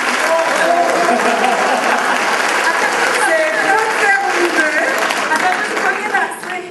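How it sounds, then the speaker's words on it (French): A crowd at a French-language faith-themed event applauds loudly and continuously, a dense wash of clapping with some cheering mixed in that fades slightly near the end. "on peut lui donner une bonne main d'applaudissement"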